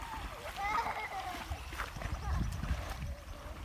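People splash and play in water while shrimp fishing with family, with irregular sloshes and splatters close by under frequent talking voices.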